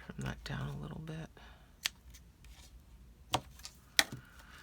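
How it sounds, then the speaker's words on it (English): Ribbon scissors trimming ribbon for a handmade card, a few sharp isolated snips spaced apart after a brief stretch of rustling, close and quiet. "So there we've got two different ribbon scissors. Trim that down a little bit."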